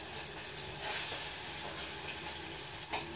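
Chopped onion sautés in melted butter in a pan with a steady, close sizzle and faint hissing and crackling, with no talk.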